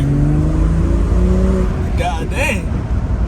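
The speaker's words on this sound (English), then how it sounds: "So let's put this thing in sport mode." A BMW 340 in sport mode accelerates, its engine note climbing steadily up close before voices break in near the end.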